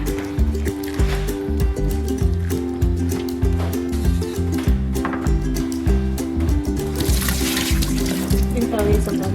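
Water pours into a pot to blanch pork ribs for a sweet corn pork rib soup, a steady splashing flow that runs close by alongside background music.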